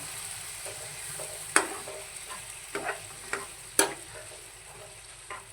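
A spoon stirs soybean chunk curry with tomato paste in a hot pan, giving a soft continuous sizzle broken by several sharp scraping clinks against the metal.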